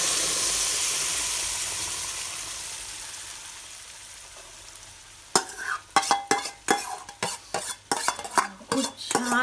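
Red masala and goda masala mixture poured into hot tempering oil for traditional aluchi patal bhaji, a soft steady sizzle first, then loud close clatters of a spoon stirring and scraping the pan.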